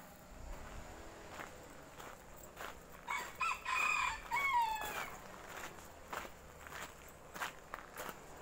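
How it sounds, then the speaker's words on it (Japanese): A rooster crows loudly in a chicken coop at an old Japanese farmhouse in a park, with hens clucking around it and footsteps crunching nearby before and after the crow. "ここは鶏小屋ですね、"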